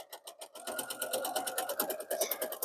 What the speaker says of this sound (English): we are going to sew all the way around the outside 1/4 inch in from the edge.